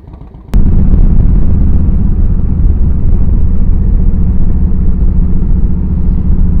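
A motorcycle engine at close range starts up abruptly, then settles into a loud, heavy idle with a lumpy, uneven lope that rumbles steadily with no talk over it.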